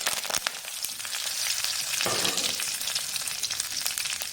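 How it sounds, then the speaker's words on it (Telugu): Cumin, mustard seeds, curry leaves and dried chillies sizzle in hot oil for an egg curry, a dense, close crackling hiss with small pops and a brief louder surge midway, with no speech. "ఆయిల్ బాగా వేడెక్కింది, ఇందులోకి జీలకర్ర ఆవాలు వేసేద్దాం. అలాగే కరివేపాకు, ఎండుమిరపకాయలు."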